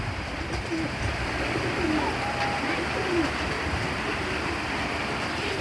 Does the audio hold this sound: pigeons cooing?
yes